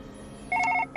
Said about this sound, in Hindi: रास्ते में उनका फोन बजा।